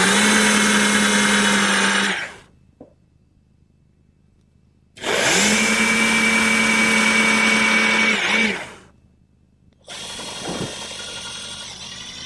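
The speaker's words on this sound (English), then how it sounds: "I'm going to do that using a 1/2 inch brad point bit in my portable drill" A portable power drill with a 1/2 inch brad point bit bores into wood for a high chair, whining in three sustained bursts, each a few seconds long, separated by short quiet pauses.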